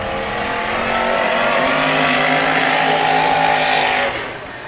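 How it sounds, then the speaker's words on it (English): Demolition derby cars at the NorCal Bash in Red Bluff, California roar together, engines revving loudly in a dense, sustained growl that builds and holds for several seconds before easing off, with no voices over it. "And listen to them motors."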